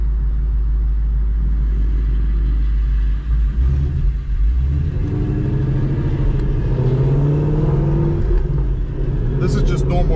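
A Mustang fitted with Kooks headers and a Corsa Xtreme exhaust rumbles through normal driving, a deep steady drone that shifts pitch as the car moves through the gears, close and fairly loud.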